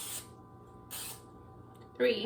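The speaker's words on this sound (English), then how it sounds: "So you want to spray it with some olive oil because it will stick." Olive oil spray hisses onto small cake loaf pans in two short bursts about a second apart, followed by a brief clatter at the end.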